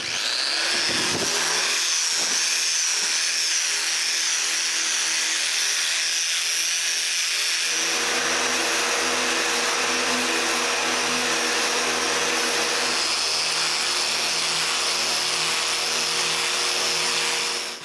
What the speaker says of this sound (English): This needs a good sanding.